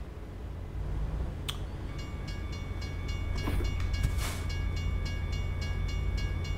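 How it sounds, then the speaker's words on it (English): A train passes in the video game American Truck Simulator, a low rolling rumble that builds gradually with rhythmic clicking and a couple of sharp clanks, heard alone at moderate distance. "I hear a train somewhere."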